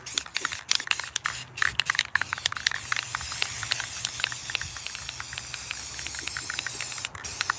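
Close spray-can hissing of black spray paint, first in quick short bursts, then settling into a long continuous spray.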